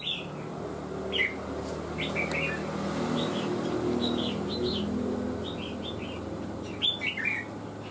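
A songbird, a Vietnamese show rooster being molted, chirping in short bright tweets scattered through the clip over a low steady room hum and faint background noise.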